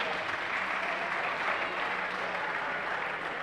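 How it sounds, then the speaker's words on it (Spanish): An audience at a climbing difficulty final claps steadily throughout, a dense even wash of applause from a crowd at moderate distance. "Vamos a darle un aplauso a Ander"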